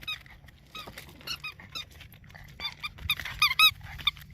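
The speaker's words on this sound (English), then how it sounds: "Get your toy. Where's your squeaker?" A dog squeezing a squeaker toy: repeated high, close squeaks in quick uneven bursts, getting louder toward the end, with faint rustling between them.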